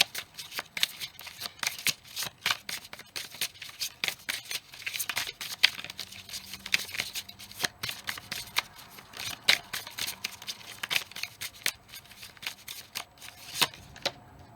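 Tarot cards being handled and shuffled from a deck during a reading, a continuous run of quick papery flicks and riffles, close and fairly quiet.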